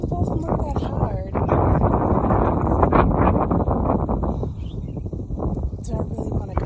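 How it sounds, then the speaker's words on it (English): Steady gusting wind roars across the microphone in Mauritius, with someone talking over the rumble. "It's getting windy."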